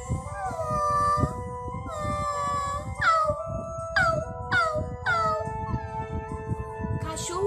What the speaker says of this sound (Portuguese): O cachorrinho ficou chorando muito